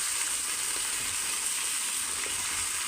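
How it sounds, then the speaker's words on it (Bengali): A kilo and a half of mutton sizzles in hot oil for Kashmiri mutton rogan, a steady, dense, crackling fry heard close and loud throughout without pause or voices. "এটা আমি তেলে একটু ভালোভাবে ভেজে নেব হালকা বাদামি কালার করব"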